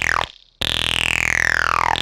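Distorted acid jump-up synth stab with a fat sub bass underneath, a loud sustained tone sweeping downward, cut by a brief gap and then a second long falling stab, with no voices.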